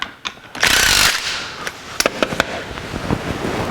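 Wrenches and power tools tighten bolts on a fabricated transmission mount for a 1949 Chevrolet gasser, including a through-bolt in a case with a stripped bolt hole. A loud burst of tool whirring is followed by sharp metallic clicks and clanks close by.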